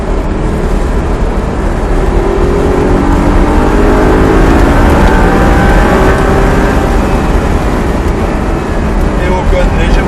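An Audi R8 accelerates on the Haute-Saintonge race track, its loud engine roaring steadily under continuous in-car talk, with rising and falling tones as the revs climb.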